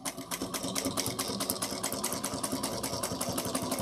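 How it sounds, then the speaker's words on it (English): A sewing machine top stitches a pouch made of a waterproof canvas-like fabric, its needle chattering in a fast, steady rhythm up close, loud and unbroken with no voices. "then we're going to top stitch at 1/8 of an inch. Make sure you back stitch."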